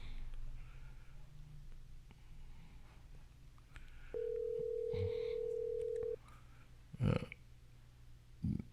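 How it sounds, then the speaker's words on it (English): A phone line redials during a podcast call: a steady two-second tone sounds, followed by short bursts of dialing beeps over a low hum. "And get Rick back on the line."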